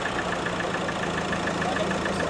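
A Mahindra XUV500 engine settles into a steady, even idle after being revved, a continuous close-up hum with no voices over it.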